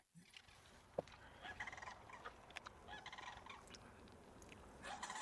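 Large turkey-like birds gobble and call outdoors near a Central Florida restaurant, several repeated bursts over steady outdoor ambience, fairly close with no talking.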